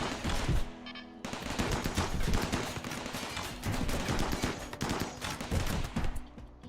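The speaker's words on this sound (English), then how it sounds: "I'm turning the turrets on right now." Automated turrets blast away in a video game battle against tribals, loud dense bursts of rapid gunfire hammering continuously and close, with brief pauses between volleys and no talking over it.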